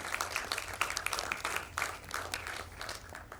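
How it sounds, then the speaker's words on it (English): Scattered applause from a small crowd, uneven claps rising and fading over a few seconds. "I would like all of us to applause our VPs in presence"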